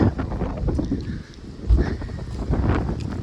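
Strong gusting wind buffets the microphone on an exposed mountain trail, roaring continuously with surging low rumbles and no voices.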